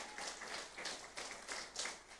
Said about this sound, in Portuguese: Uma salva de palmas a Jesus.